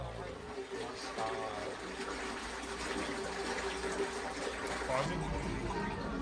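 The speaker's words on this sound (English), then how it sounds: "Water is slowly coming inside now." Water gushes steadily into an enclosed human washing machine capsule, a continuous close rushing fill, with voices talking over it.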